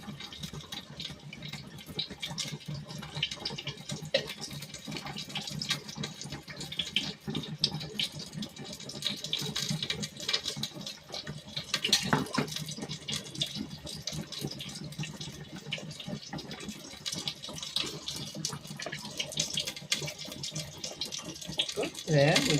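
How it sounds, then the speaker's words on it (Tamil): Tap water runs steadily for rinsing a mixer grinder jar and filling it with water after coconut, cumin and pepper go in, a continuous close splashing flow in a home kitchen with some background voice. "இதை மிக்ஸியை அலசி தண்ணி ஊற்றிட்டேன்"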